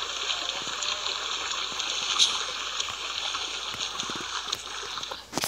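Water being collected in a survival video game gives a continuous rushing, sloshing flow with a few small splashes, steady from start to finish.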